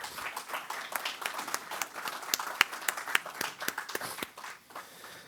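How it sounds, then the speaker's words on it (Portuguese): Audience applause at the opening of a symposium on the ideas and practices of Pedro Sisnando Leite: steady, moderately close clapping with crisp claps standing out, fading slightly near the end. "a quem eu peço das senhoras e senhores uma salva de palmas"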